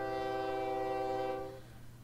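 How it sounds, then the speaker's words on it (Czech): A steady tonal horn-like chord from trains running on railway tracks in the OpenTTD video game, sustained for over a second before cutting off, leaving a low rumbling background. "Vidíte, že se tady pěkně střídají ty vlaky."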